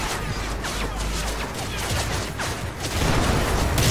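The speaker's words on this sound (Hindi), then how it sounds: "बस अंधाधुंध गोली चला रहा हूँ मैं तो" Rapid gunfire in Call of Duty Modern Warfare, dense bursts of shots cracking continuously and loudly throughout, with a voice audible underneath.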